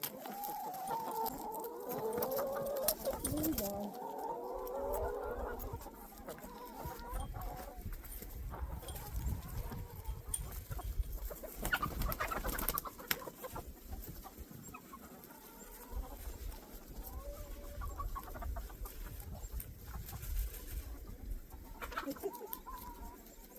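Chickens cluck and chatter nearby, a busy flock of soft calls rising and falling, with some rustling and movement around them.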